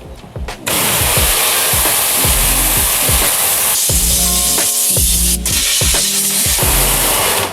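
A pressure washer blasts a commercial kitchen exhaust hood in a loud, continuous hissing spray close by, its pitch wavering in repeated sweeps as the wand moves across the metal surfaces.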